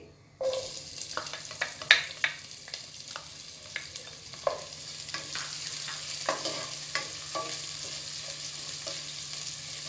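Sliced onion softening in a pan with green cardamom, stirred often: a soft, constant sizzle under repeated close scraping and clicking of the utensil against the pan, with no voices.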